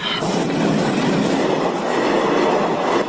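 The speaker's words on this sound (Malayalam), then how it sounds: "ട്രെയിൻ വന്നു കേട്ടാ." A train rushes past close by at a closed level crossing gate, a loud continuous roar of wheels with rhythmic clatter on the rails.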